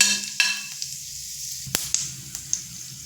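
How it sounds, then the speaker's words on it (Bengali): Whole garam masala and cumin seeds sizzle in hot oil in a pan, a steady close hiss broken by a few sharp pops and crackles. "ফোড়নে দেব গোটা গরম মশলা আর দিয়ে দেব গোটা জিরে"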